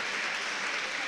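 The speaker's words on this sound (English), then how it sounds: "The fans are clapping him up, supportive." Basketball fans at a high school boys game clapping for a player, a steady wash of crowd applause filling the whole short stretch, even and fairly loud with no distinct voices.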